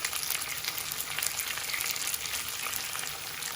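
Rice tinted with colouring such as turmeric is stirred and fried in a paella pan, giving a steady close sizzle with light scraping throughout and no talk.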